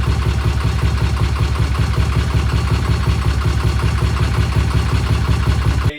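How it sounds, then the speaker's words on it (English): A motorcycle engine idles steadily in a repair shop, a loud, even, low chugging pulse held without a break for several seconds and cutting off at the very end, with no talk over it. "That's a great idle right there."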